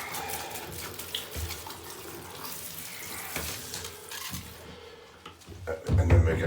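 Leather shoe rinsed under a running tap, with a steady splash and gurgle of water over the surface that swells louder near the end.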